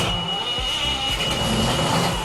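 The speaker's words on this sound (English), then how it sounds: "I'm gonna turn on the engines, the ignitions, and they actually start up." Boat engines start up on a vessel fitted with a Glendinning control system during final checks before a sea trial, giving a loud, steady, close engine roar with no talking.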